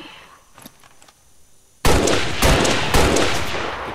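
Gunshots in the XCOM 2 video game: after a quiet stretch, a sudden loud burst of rapid automatic fire erupts and keeps rattling in close, heavy volleys.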